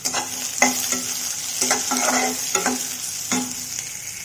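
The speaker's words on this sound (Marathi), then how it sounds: "आता त्याला गोल्डन ब्राऊन होईस्तोवर भाजून घेणार आहोत" A single medium-sized onion fries in oil in a kadhai until golden brown, steady sizzle broken by repeated scraping stirs of the spatula, close and fairly loud with no voices.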